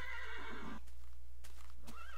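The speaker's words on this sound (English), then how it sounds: "No, you don't go near my horse." A horse in the video game Minecraft neighs in a shrill, wavering whinny, then gives two quick snorting bursts and a shorter rising call, all heard over a steady low game hum.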